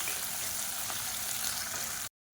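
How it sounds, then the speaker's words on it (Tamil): Onions and green chillies fry in oil with a steady, close sizzling hiss that runs evenly for about two seconds, then cuts off abruptly. "இப்போ இந்த வெங்காயமும் பச்சை மிளகாயும் எண்ணெயில் நல்லா வதக்கிக்கலாம்."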